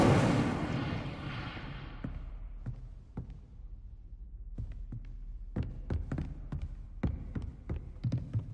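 A fire spell cast in the Hogwarts Legacy video game opens with a loud roaring whoosh that fades over about two seconds, followed by a scattering of sharp crackles and taps, with no voices.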